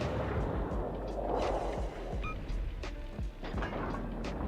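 Battleship guns boom repeatedly in a naval video game, heavy rumbling blasts layered over a constant loud low roar of battle, with no talk.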